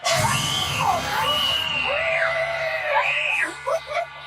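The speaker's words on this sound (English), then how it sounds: "Who screams like that? You sound like a little girl." A girl screams in a scare scene, letting out a long run of loud, close, shrill shrieks that rise and fall in pitch for about three seconds before breaking into short gasps.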